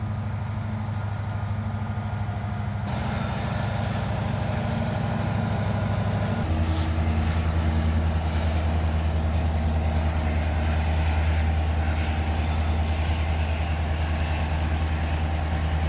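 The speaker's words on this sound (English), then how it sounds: "I'm up early this morning to capture these mighty freight trains coming in and leaving too." Freight trains rolling through Jasper's marshalling yard, a continuous heavy rumble of wagons and locomotive drone that shifts in pitch partway through, with faint high squeals of wheels or brakes, loud and sustained with no voices.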